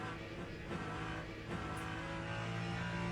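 A race car engine drones at high revs in Le Mans Ultimate, a steady, dense mechanical roar with sustained harmonic tones and slight pitch shifts as the car sweeps through the Porsche curves.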